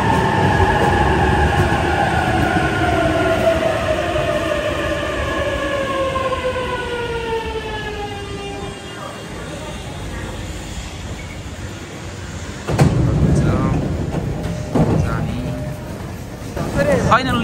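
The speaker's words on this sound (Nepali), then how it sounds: "उताबाट ट्रेन आइरहेको छ है।" Train pulling into a station in Japan, with falling squealing brake tones and rumbling as it slows to a stop, followed by louder platform commotion and voices.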